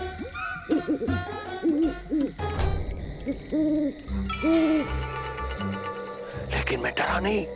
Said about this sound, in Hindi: अचानक उल्लू बोलने लगे।